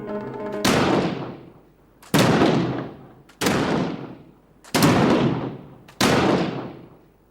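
A musket and a rifle fire at targets, five loud single shots spaced about a second apart, each a sharp blast with a long decaying echo, heard alone.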